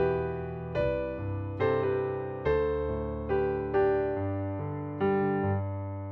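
Piano melody line from an arrangement, a right-hand figure of G with B entering on the second beat, played as a slow series of about seven clear, sustained notes and chords over held bass, with no voice.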